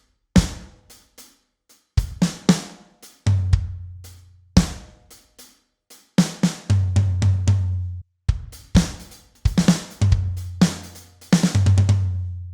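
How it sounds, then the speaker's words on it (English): A drum kit plays a fill from a song, with sharp cymbal and snare hits over deep tom and kick notes in clustered bursts and short pauses, close and loud, with no talk. "There's one little fill and it sounds like this."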